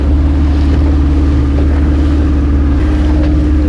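A boat's engine idles steadily with a low, constant hum, mixed with wind and sea noise as the vessel prepares to head out for dolphin watching off Trincomalee.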